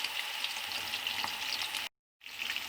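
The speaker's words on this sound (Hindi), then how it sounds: "हम इसको मीडियम टू लो आंच पर फ्राई करेंगे चिकन विंग्स को।" Chicken wings deep frying in hot oil over medium-low heat give a steady close crackling sizzle that cuts to silence briefly, then resumes.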